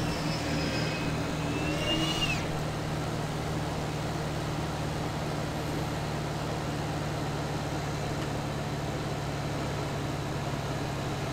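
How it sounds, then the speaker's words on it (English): Landing gear lowers on an aircraft in X-Plane 11 with a brief rising mechanical whine over the first couple of seconds. A steady, even cockpit engine drone continues alone afterward. "Go ahead and drop the gear."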